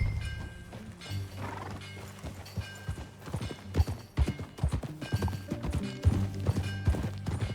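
Horse hooves clip-clop steadily in Red Dead Redemption, a close rhythmic gait running throughout over an ambient game music bed, with a few louder hoof strikes.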